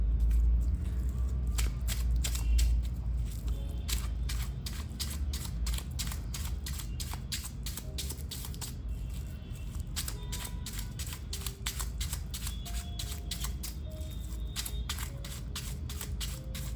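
Tarot cards are shuffled by hand in a steady run of quick papery riffles and flicks, close and continuous, with faint background hum throughout.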